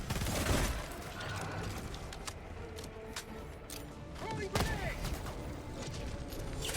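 Helldivers 2 heavy machine gun on its highest fire mode, rapid bursts of gunfire with mechanical clatter and scattered louder impacts over game noise.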